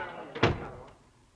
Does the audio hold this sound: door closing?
yes